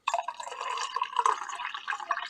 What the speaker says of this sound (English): I'm going to, first of all, fill up my cup of coffee.